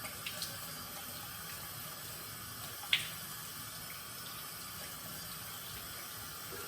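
Cold water runs from a tap in a steady, moderate stream, close by, with one brief knock partway through.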